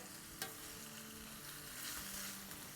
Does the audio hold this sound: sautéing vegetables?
yes